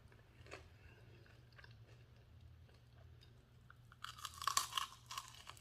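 Crunchy Korean double fried chicken with ginger and garlic, chewed in a few close bursts of crisp crackling that grow loudest near the end over a low steady hum.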